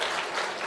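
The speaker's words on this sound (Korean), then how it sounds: "우리 반갑게 감사의 박수 드리겠습니다" A church congregation gives a short round of applause in thanks for a visiting pastor during a Sunday service; dense, steady clapping fills the whole moment with no speech over it.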